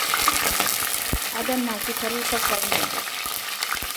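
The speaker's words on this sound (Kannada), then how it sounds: "ಸ್ವಲ್ಪ ಫ್ರೈ ಮಾಡಬೇಕು, ಒಂದು ಅರ್ಧ ಸೆಕೆಂಡ್ ಮಾಡಿ" A bay leaf sizzles and fries in hot oil in a pan while a chicken biryani is being made. The frying hiss is steady with a few light clinks, and someone speaks briefly over it.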